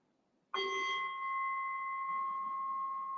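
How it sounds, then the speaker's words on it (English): A single mindfulness bell is struck once, then its clear tone rings on steadily and slowly fades, sustained and resonant in a quiet space. "now I'll ring the bell again"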